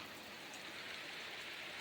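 Quiet, steady hiss of rain falling, a soft continuous patter heard from a short distance with no voices.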